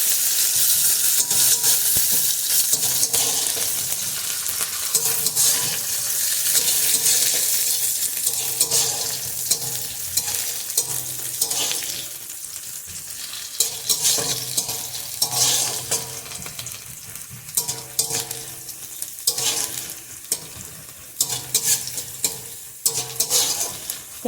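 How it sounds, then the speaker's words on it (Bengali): Onions fry in hot oil in a pan until browned, sending up a steady close sizzle and hiss. A spoon scrapes and stirs now and then, the frying eases a little later on, and no one speaks. "পেঁয়াজটা লাল করে ভাজা হয়ে গেছে।"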